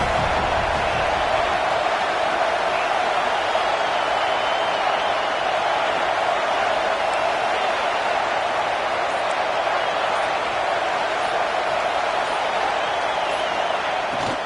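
A stadium crowd in a college football video game roars as a steady, dense wash of cheering that stays loud and unbroken throughout.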